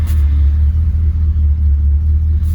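A 1973 Ford Gran Torino engine idles with a loud, steady low rumble that runs unbroken from start to finish, with no voices over it.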